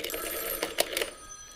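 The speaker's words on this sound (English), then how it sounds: "There's a call for you." A telephone bell rings in an indoor scene from a Vampire: The Masquerade actual-play drama, with a few bright, repeated rings standing out clearly over a steady background hum, and nobody speaking.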